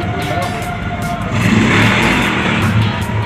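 A Honda Click scooter fitted with a 24mm GY6 carburetor revs nearby, a loud buzzing engine note that swells in the middle and then settles, with faint voices underneath.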